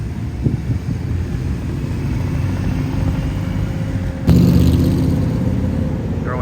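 At a street cruise event, a Cobra replica car rumbles past with a loud, close engine burst partway through, standing out over the steady background of crowd and traffic noise.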